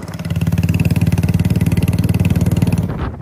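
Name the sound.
motorcycle engine with aftermarket silencer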